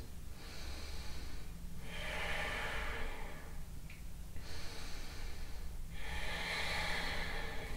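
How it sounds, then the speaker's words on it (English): Slow deep breathing during a vinyasa yoga flow, with several long, soft breaths in and out that are close and quiet, in a steady rhythm with no talk. "3 more deep breaths."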